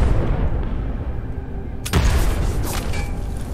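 A grenade goes off in the shooter game S.T.A.L.K.E.R. Anomaly, a sudden loud blast that breaks over a steady background rumble and leaves a long, noisy tail.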